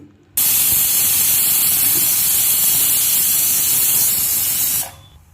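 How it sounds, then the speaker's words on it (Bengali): A pressure cooker cooking chickpea dal on a medium gas flame lets out one loud, steady whistle of venting steam that hisses continuously for about four and a half seconds, then cuts off abruptly. "প্রেশার কুকার তিনটে হুইসেল হওয়ার জন্য আমি রেখে দিলাম"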